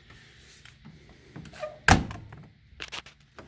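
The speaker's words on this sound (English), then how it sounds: "Suicide doors, they open up into the back." Suicide door of a 1936 Chevy, a single loud solid thunk of the door shutting in the middle, surrounded by faint rustles and small clicks.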